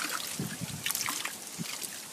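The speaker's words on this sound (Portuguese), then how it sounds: "A água está caindo na caixa, né?" Water from a pipe trickles and splashes into an aquaponics fish tank, a soft continuous dribble close by with no voices.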